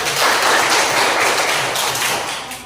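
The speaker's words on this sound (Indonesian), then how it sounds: "tepuk tangan untuk semua" Schoolroom class applauding during a lesson, a dense, loud burst of many hands clapping close by, sustained evenly before tapering slightly at the end.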